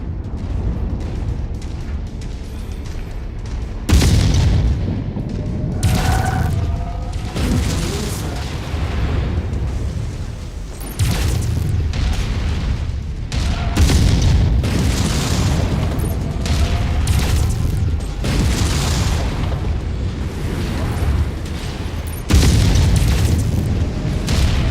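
Heavy booming explosions from battling mechs in the video game MechWarrior 5: Mercenaries, repeated deep blasts every few seconds over a constant rumbling battle din, loud and close.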